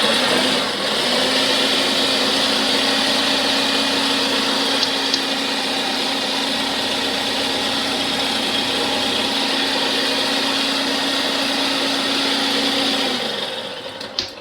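A food processor whizzes egg yolks with hot butter in one steady, close motor whir with a constant hum, running without a break for about thirteen seconds before spinning down and stopping.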